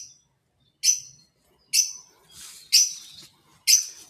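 A small bird gives sharp, high chirps in a spaced series, about four or five bright calls close by in a quiet room.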